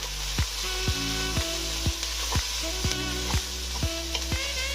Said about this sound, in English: Stir continuously to avoid the bottom catching.